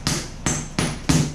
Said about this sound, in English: Go ahead and hammer them in flush.